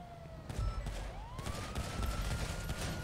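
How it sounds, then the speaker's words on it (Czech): Rapid bursts of video game gunfire crackle over a steady rumble, with a siren wailing in the background. "On střílí z auta."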